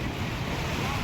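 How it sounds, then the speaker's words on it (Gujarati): Big sea waves crash and roar continuously at Gomti Ghat in Dwarka, a dense, steady surge of surf mixed with wind buffeting the microphone. "દરિયો જબ્બર ઉંફાળા મારા"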